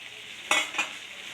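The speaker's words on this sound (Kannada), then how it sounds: "ಕರ್ಡ್ ಹಾಕಿ ಹಾಗೆ ತಿರುಗಿಸ್ಕೊಡಿ" Restaurant-style chicken gravy with curd stirred in a pan, two short scraping stirs over a low, steady sizzle, close and without voices.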